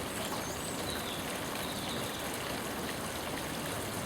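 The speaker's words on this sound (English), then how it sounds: "And the waterfall there, as you can see, is all working there." Water from a garden pond waterfall runs steadily in a broad, continuous rush and trickle, close by and unbroken, with no voices.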